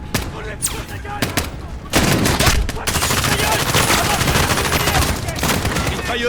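Machine gun fire rattles in Call of Duty: Modern Warfare (2019), first in scattered bursts and then a loud, dense, sustained volley of rapid shots lasting several seconds, with battle noise around it.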